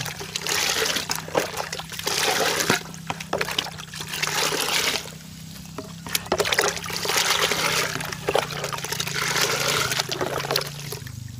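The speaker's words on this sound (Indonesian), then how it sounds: "Nah, kita siramkan dengan air micin ini." Sugarcane shoots being watered with MSG-mixed water, a steady trickling and splashing stream that pauses briefly in the middle, close and fairly loud.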